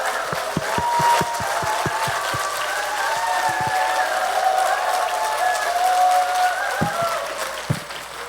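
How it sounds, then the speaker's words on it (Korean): Audience applause welcoming a visiting priest from Medjugorje at a Catholic national gathering in Korea, a steady dense clapping from a large indoor crowd lasting throughout, with a few sharper individual claps standing out. "다시 한번 뜨거운 박수로 신부님 모시겠습니다."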